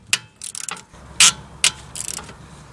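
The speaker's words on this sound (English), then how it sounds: "I'm using a ratchet with an extended socket so I can move it." A ratchet with an extended socket turns a stiff bolt on a Jaguar X-Type, giving close, sharp clicking bursts in short irregular strokes with pauses between them.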